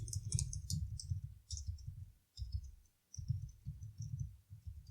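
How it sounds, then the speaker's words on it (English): Keys being typed on a computer keyboard while writing Rust code, clicking in quick irregular bursts with short pauses, close and fairly quiet over low room rumble. "typing"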